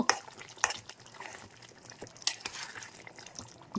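A chicken curry cooked with milk is stirred in a pan, with sharp clinks and scrapes of the spoon at irregular moments over a soft, bubbling background.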